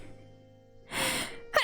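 A single sharp sneeze bursts out close by after a brief breathy intake, followed by a quick vocal sound at the end.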